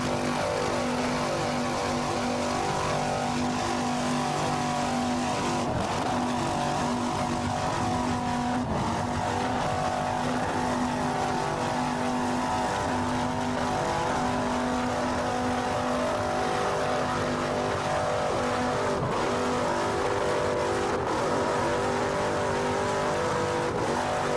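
Racing powerboat engines roaring at the Islamorada 100 race in the Florida Keys, a steady loud droning engine note with shifting pitch throughout, continuous and close without pause.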